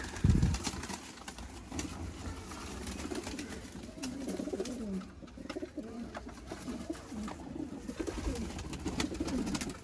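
Pigeons, a pair of Sialkoti pigeons, coo softly and repeatedly, their low burbling calls overlapping amid light rustling and shuffling nearby.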